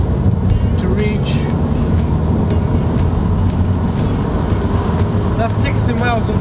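A Mazda 5 MPV with a 2-litre diesel engine pulls in third gear at about 60 mph, giving a loud, continuous drone of engine and road noise inside the cabin.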